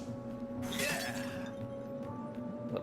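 Objects being smashed in the Stories: The Path of Destinies video game, one brief crash of breaking debris rising out of a quiet game-music background, fairly faint overall.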